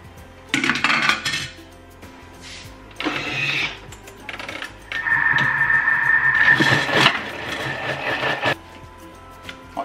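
A Thermomix whirs as it blends red onion halves and peppers with olive oil, a motor drone lasting a few seconds between clattering bursts of kitchen handling and lid clunks, close and fairly loud.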